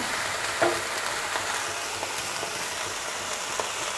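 Ginger paste hitting a hot pan for a vegetarian bamboo-shoot ghonto, giving a steady, even sizzle that runs throughout with a small clink near the start.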